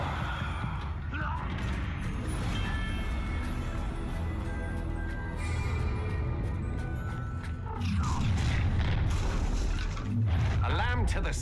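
Confringo blasting spell in the Hogwarts Legacy video game erupts in booming explosive crashes, set over a continuous loud rumbling game backdrop with no speech.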